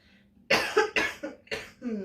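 Four sharp coughs in quick succession, close and fairly loud, each a short burst with brief pauses between, ending in a softer throaty exhale.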